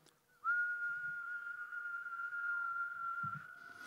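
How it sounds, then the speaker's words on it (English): A group of people whistles a single sustained F note together, steady and fairly loud, starting abruptly after a brief quiet moment, at a trombone masterclass. "Can we all whistle an F? Just go."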